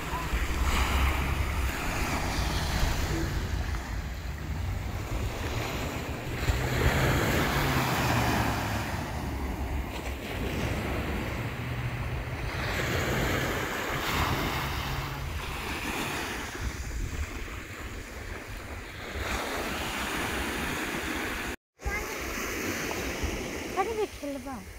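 Ocean surf rolls onto a seashore at sunrise, a steady broad wash of breaking waves mixed with gusty wind buffeting the microphone, continuous and fairly loud throughout.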